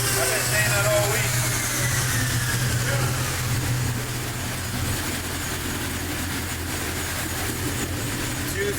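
A K20/K24 all-motor engine in a 39k-mile EG hatch runs on a dyno, a loud steady drone with a low throb, partly masked by voices.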